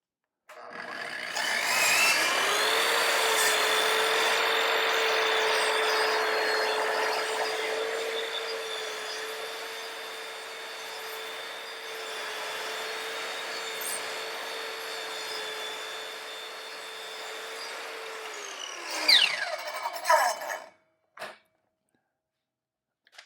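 Kreg Accu-Cut track saw slicing through wood: a loud, steady motor whine holds for most of the cut, spins down near the end, and is followed by a few brief knocks.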